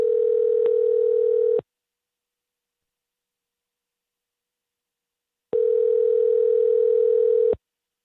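A telephone call being placed again after a dropped line: two long, steady electronic tones about four seconds apart, with complete silence between them.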